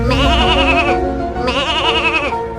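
A goat bleats twice in long, wavering, nasal cries close to the recorder at a mixed livestock farm in Kantang, Trang province, with a short gap between the calls and no other sound.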